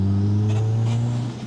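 A turbocharged Mitsubishi Eclipse GSX engine revs in a short, loud burst, its steady engine drone rising and then easing off near the end.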